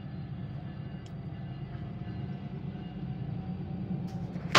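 A Norfolk Southern freight train climbing a hill gives off a steady low rumble at a distance, holding level throughout with a faint sharp noise at the very end and no talk.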